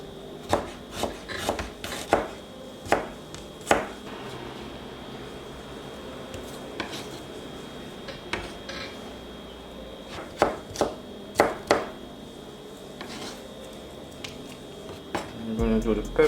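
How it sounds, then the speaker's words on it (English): An onion is chopped with a knife on a board in a home kitchen while Jamaican brown stew turkey neck is being prepared: sharp, irregular chops, some in quick clusters, separated by quieter stretches. "I'm going to cut the onion."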